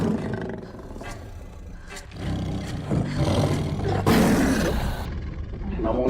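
A lion roars loudly in a film scene, with several deep, rumbling bursts over about six seconds. Other movie sound sits underneath, and a sharp surge comes near the end.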